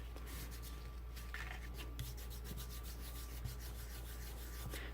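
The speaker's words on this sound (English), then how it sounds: "Just burnish that a little bit." Paper on a notebook cover is burnished by hand, a soft, steady rubbing and scraping that runs throughout at close range over a low constant hum, with a few faint taps.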